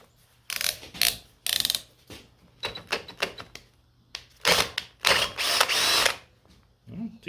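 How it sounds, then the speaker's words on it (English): A power drill bit bores a hole in a series of close, loud bursts, short whirs at first and then longer grinding runs, with pauses between them and little talk. "I have very little faith in this drill bit."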